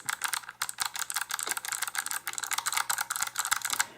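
Blue mechanical switches on a Koolertron PUBG gaming keypad clatter under fast, steady typing, a close and loud run of crisp sharp clicks with no voice.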